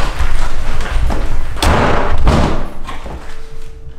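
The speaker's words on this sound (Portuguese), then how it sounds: "Nossa, quebrei a porta." A door is slammed hard enough to break it, producing a loud thud and crash followed by rattling impacts that fade out over several seconds.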